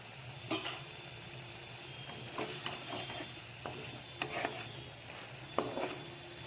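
Cabbage fries in a pan with fish heads, a steady close sizzle broken by repeated scraping and clinking as a spatula stirs the mixture.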